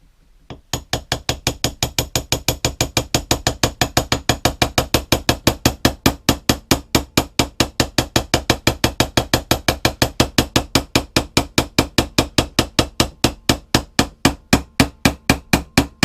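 A hammer strikes a punch to drive a pin into a Toylander mini Land Rover Series 1, loud close metallic blows falling in a fast steady rhythm of roughly five per second for the whole stretch, with nothing else heard.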